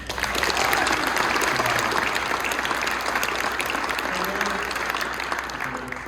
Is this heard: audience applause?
yes